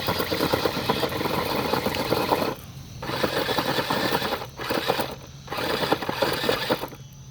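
Small R/C monster truck engine revving in bursts with brief drops between, a busy buzzing whine close by, kicking up rocks on a gravel surface.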